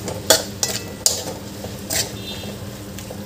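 Salted mixed vegetables are stirred in a cooking pan, giving several sharp metallic spatula clinks and scrapes over a low, steady cooking hiss, with no talking.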